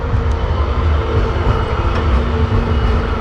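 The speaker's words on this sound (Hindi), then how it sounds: "तो ये वाली ट्रैम है।" A city tram in a German street passes as a loud, steady rumble with a metallic rolling drone, up close and continuous throughout, without any voices.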